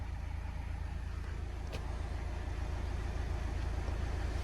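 The engine of an Audi idles in a steady, low, rumbling drone throughout while a diagnostic code scan runs for a tiptronic signal fault, with a couple of faint clicks and no talking.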